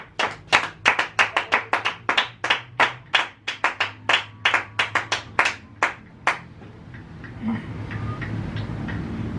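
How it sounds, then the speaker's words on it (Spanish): Church congregation clapping during a service, a burst of loud, sharp claps with irregular rhythm lasting about six seconds before fading into quiet room murmur. "aplauso"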